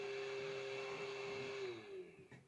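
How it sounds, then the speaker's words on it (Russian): A steady motorized whine of air blowing from a model 8586 hot air rework station gun, with a strong tonal hum, close and continuous, dropping in pitch and fading out near the end. "Фен сам включается, когда убираешь магнит."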